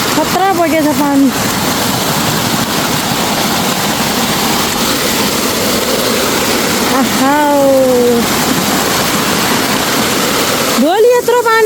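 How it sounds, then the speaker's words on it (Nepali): A rain-swollen stream in a misty village rushes past in a loud, unbroken roar of water, while someone speaks over it at the start, in the middle and near the end. "खतरा बगेछ पानी।"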